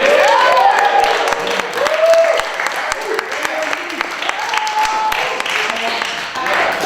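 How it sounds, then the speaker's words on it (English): Audience applause at an improv comedy show, a steady wash of many hands clapping throughout, loud and fairly close, with some voices and cheers mixed in. "And obviously give a round of applause for yourselves for showing up tonight."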